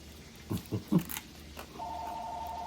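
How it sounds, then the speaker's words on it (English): A few soft knocks and thumps give way to a telephone ringing, a steady electronic tone that sounds faintly for about a second at the end. "Sorry the phone's ringing"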